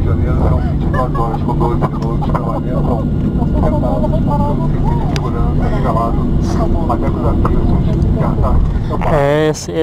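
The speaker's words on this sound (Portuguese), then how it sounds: "essa freada aqui foi sinistra, hein? Parece que não tinha pista" Inside the cabin of a GOL airliner landing in Rio de Janeiro, a loud steady engine and runway roar carries the hard braking, while people talk and exclaim over it throughout.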